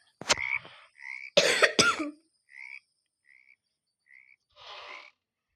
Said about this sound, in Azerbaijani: Qurbağalar gəldi.